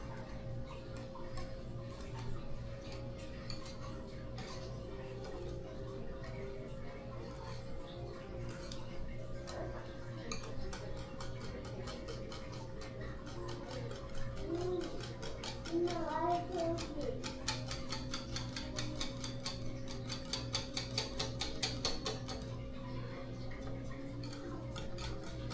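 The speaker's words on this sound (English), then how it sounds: "Get her all whisked up." Meatloaf ingredients are whisked in a bowl with a steady rapid ticking of utensil against the bowl, fairly quiet and continuous over a low background hum, speeding up and growing busier partway through.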